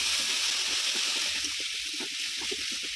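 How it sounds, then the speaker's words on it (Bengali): A splash of water poured into frying spice paste for a Bengali mutton and potato curry, with steady hissing and a soft rhythmic churn of stirring throughout, loud and close. "অল্প একটু 1 চিমটে জল দিয়ে মশলাটাকে ভালো করে নাড়াচাড়া করে নেব।"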